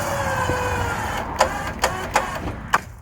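A winch whines steadily as it pulls a rope wrapped around a tree, its motor tone fading out near the end while several sharp clicks or clacks ring out at irregular intervals.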